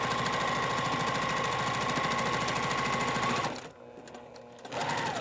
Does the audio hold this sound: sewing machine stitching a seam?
yes